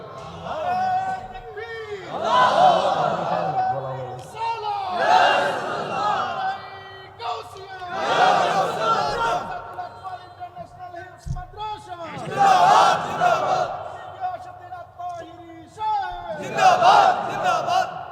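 A large crowd at an outdoor Islamic waz gathering chants slogans in loud, rhythmic call-and-response bursts, roughly five swelling shouts separated by brief pauses.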